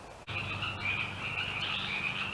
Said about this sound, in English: listen to those froggies croaking